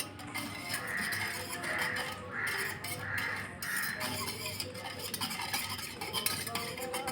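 A spoon stirs a tamarind drink with dry ginger powder and cardamom in a vessel, giving soft, repeated scraping and clinking close by, while crows caw several times in the background.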